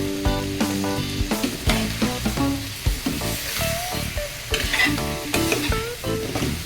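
Pork and okra sautéing together in a pan, loud sizzling with repeated clanks and scrapes of stirring, rhythmic and close, with no voices.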